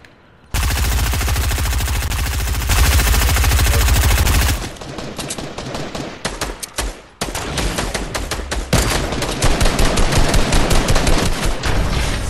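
Gunfire in the video game Fortnite rattles almost nonstop, with a long dense burst followed by choppier runs of rapid shots, loud and close.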